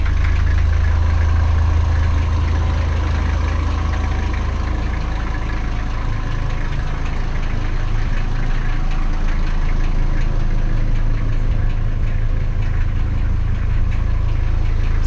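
A 1991 Toyota Land Cruiser PZJ70 diesel 4x4 idles steadily, its loud, close engine giving a deep, even rumble with a faint knocking clatter that holds unchanged throughout, with no voices.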